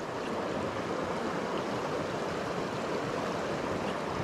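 A mountain stream in the Blue Ridge Mountains of Virginia runs in a steady, broad rush of water that fills the whole clip at close range, with no voices over it.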